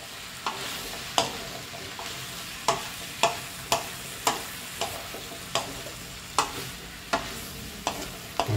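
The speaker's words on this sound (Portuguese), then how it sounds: "E vamos misturar tudo isso aqui." Maxixe, okra and charque stirred in a pan, with a utensil scraping and clacking against the metal in a steady run of about a dozen sharp strokes over a faint sizzle, close and alone.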